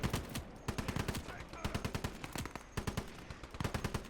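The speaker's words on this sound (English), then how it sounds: "As you can see, I'm kind of like burst firing" Repeated short bursts of machine gun fire in the WW2 strategy game Gates of Hell, sharp rapid rattling shots in clusters with brief pauses between, loud and close, with a voice faintly under the gunfire.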